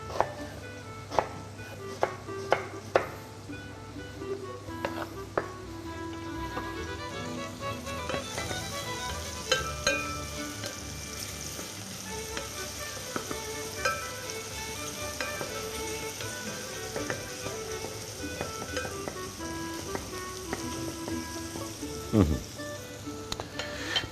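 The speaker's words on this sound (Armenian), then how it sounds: "սերկևիլ տապակենք" Quince slices frying with chopped onion in a pan for an Armenian dish, a steady sizzle throughout with frequent sharp clinks and scrapes of a utensil against the pan, close and fairly loud.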